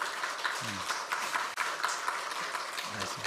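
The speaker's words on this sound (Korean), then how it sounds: "다시 한번 박수" A Korean church congregation gives a round of applause during a Sunday morning Thanksgiving service after a hymn, with a soft, steady patter of clapping at a distance and low murmuring underneath.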